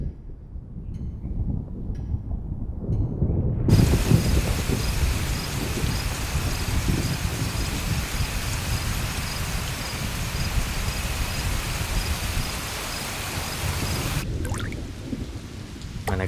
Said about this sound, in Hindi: आज बारिश होगी. ये तब तक नहीं रुकेगी जब तक आप मेरे फेवर में जजमेंट नहीं देंगे.